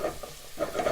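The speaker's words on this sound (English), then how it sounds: "And then we're going to add the garlic and our onion. And we're going to want to stir this together" Garlic and onion sizzle in olive oil in a pan while being stirred, a close, crackling fry broken by scraping strokes of the spoon across the pan.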